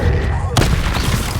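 A fire spell in Hogwarts Legacy goes off with a loud sudden burst partway in, breaking into a dense crackling roar that stays loud to the end above a continuous low rumble of combat.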